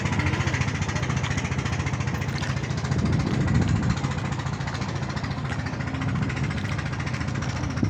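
A boat engine runs in a steady, droning rumble with a fine rapid vibration, loud and continuous from start to finish with no talk heard over it.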